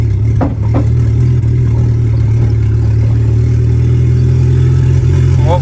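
A badly tuned car engine runs loud and steady up close, a low rumbling drone with a faint rattle, holding at one level throughout with no voices over it.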